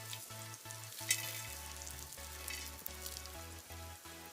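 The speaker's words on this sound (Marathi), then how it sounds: "फुटाने भाजून घेऊ" Chickpeas (futane) roasting in a pan on a wood-fired stove, a soft crackling sizzle with faint scattered pops, quiet and close, under a steady low tonal hum from background music.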